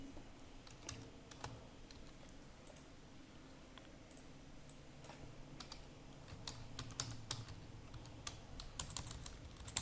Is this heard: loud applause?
no